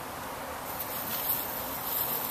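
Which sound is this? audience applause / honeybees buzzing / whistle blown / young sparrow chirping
honeybees buzzing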